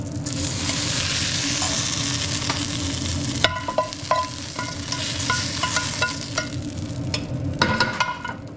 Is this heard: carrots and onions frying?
yes